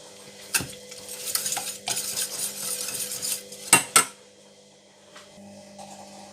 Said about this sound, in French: Donc je vais battre tout ça ensemble.